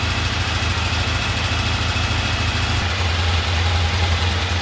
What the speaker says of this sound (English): I'm going to stop the video but leave the bike running for a while